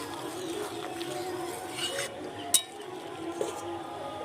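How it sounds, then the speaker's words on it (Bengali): A spoon stirs milk in a pot for vermicelli pudding, giving soft continuous scraping with a couple of sharp metallic clinks against the rim, fairly close and moderate in level. "দুধটাকে এভাবে ভালোভাবে নেড়ে চেড়ে নিচ্ছি"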